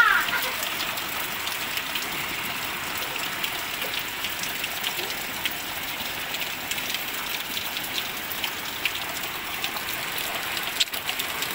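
Heavy rain pours down without pause after days of steady downpour, a dense, loud, continuous hiss of drops striking surfaces close by, with no voices over it.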